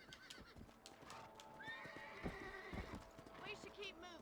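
In the video game Red Dead Redemption, a horse's hooves clip-clop in a quick rhythm, and the horse whinnies, close and clear beneath ongoing speech.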